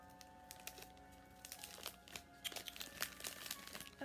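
Crinkly plastic wrapper of a wafer snack being handled and torn open by hand nearby, a quiet run of rustles and sharp crackles building toward the end.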